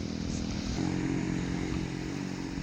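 A loud, steady racing boat engine drone with a buzzing motor tone, sustained throughout like a fast boat passing close.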